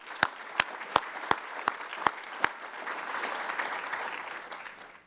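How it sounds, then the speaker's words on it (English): A summit audience applauds sponsors: a few sharp, evenly spaced claps ring out first, then a full crowd's applause swells into a sustained, fairly distant wash that fades at the end. "If you'd join me in giving them all a round of applause."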